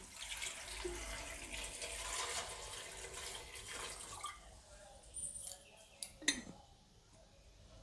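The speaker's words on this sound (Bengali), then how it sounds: "এইবারে দিয়ে দেবো পরিমাণ মতো জল।" Water poured into a pressure cooker holding washed, cut young jackfruit, a steady splashing rush for about four seconds that gives way to quieter trickles and a few metallic clinks.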